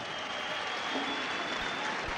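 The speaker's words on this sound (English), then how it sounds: "This crowd comes alive." Basketball arena crowd at a 1979 Penn State versus West Virginia college game, cheering and applauding in a steady, dense roar during a timeout, continuous from start to finish with no gaps.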